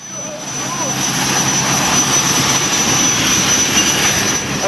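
Loud, steady engine drone inside a very small passenger plane, a constant hum and roar with no breaks, heard up close from the cabin.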